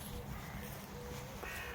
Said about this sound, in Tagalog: Uwak, uwak, sabi ng mga ibon.